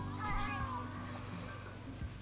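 A cat in the game RimWorld meows repeatedly while being attacked, with several distinct meows at moderate distance over a quiet background.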